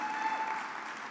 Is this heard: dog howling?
no